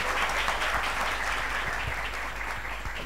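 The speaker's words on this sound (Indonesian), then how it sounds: "tepuk tangan buat Rafian." Audience applause at a school youth expression event, a steady, moderately loud patter of many hands clapping throughout, without speech.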